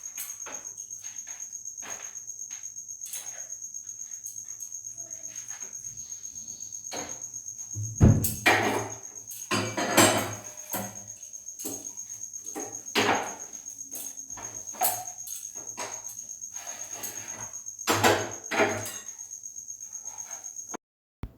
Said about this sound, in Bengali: রান্নাঘরে সাউন্ডেই তো বুঝতে পারছো এখন কতটা রাত একদম সেই ঝিঝি পোকার ডাক শোনা যাচ্ছে